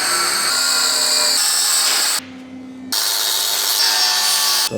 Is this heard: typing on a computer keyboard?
no